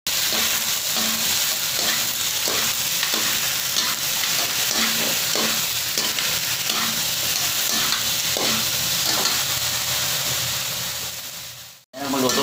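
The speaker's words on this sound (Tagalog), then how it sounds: "Haluin mo natin ang haluin mo." Two ladles scrape and stir a sizzling meat mixture in a wok-style pan, steady frying hiss throughout with rhythmic metallic scrapes, loud and close, briefly cutting out near the end.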